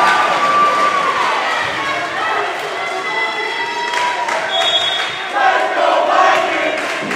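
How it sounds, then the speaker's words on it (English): A crowd in a school gym cheers at a senior-night volleyball match, a dense roar of shouts and whoops with voices rising and falling, swelling louder near the end. "Crowd getting into it now."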